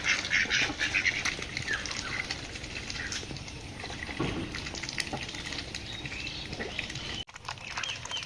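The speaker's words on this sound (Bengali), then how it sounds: "এই যে হাঁসগুলো বের করলাম" Ducks quack in a noisy outdoor bunch as they are let out, a dense chorus of overlapping calls that runs continuously at close range with no talk.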